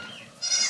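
Kid goats roaming together on a farm, one giving a short, fairly close bleat that swells after a quieter opening, with no talk.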